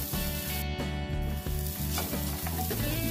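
Masala sizzles and fries in hot oil while tempering for a Mangalore-style cucumber pulikoddele, a steady close crackle with regular rhythmic accents and a tonal layer running throughout.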